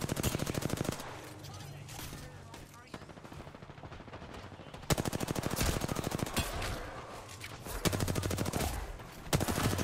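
Automatic gunfire in Apex Legends comes as dense, rapid bursts of shots, loud and close, broken by brief pauses and mixed with players talking.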